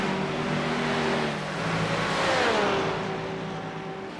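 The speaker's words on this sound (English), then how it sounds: "I believe that is the sound of a GT4 in the background." A GT4 race car engine drones in iRacing during a multiclass mountain race, a steady revving whine that rises and falls in pitch at moderate distance, running continuously with no talk.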